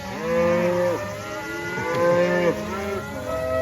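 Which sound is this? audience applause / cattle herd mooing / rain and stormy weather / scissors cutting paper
cattle herd mooing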